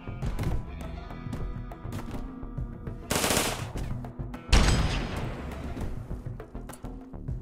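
Rapid bursts of automatic gunfire from a gun complex in the colony game RimWorld, rattling in uneven volleys with a louder, denser barrage near the middle, and no voices.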